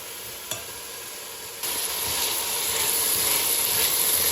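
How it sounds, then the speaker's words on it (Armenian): Steady close sizzling of onion frying in a hot pan for borscht, with faint scraping from stirring, continuing without pause. "Եվ սկսում ենք լավ, ինտենսիվ խառնել։"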